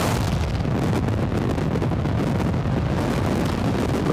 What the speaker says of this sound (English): ignition. And the liftoff is Falcon 9